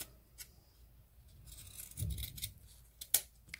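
Scissors snip through 3-inch ribbon being trimmed for a cheer hair bow, giving a few quiet, close cuts with soft rustling in a hushed room and no talking.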